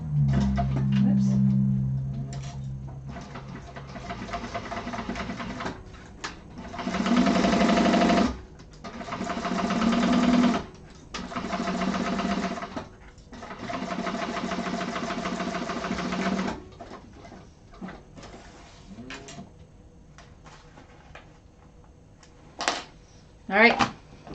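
Sewing machine stitching a handbag in several bursts of a few seconds each, separated by short pauses, up close, with a person talking between the runs.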